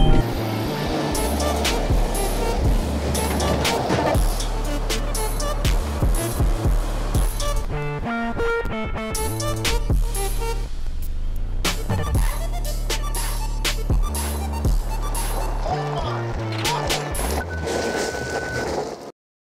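A 2020 Kia Mohave SUV accelerating from a launch-control start, with a strong, continuous engine roar that rises through the gears, close and loud for nearly twenty seconds without talk.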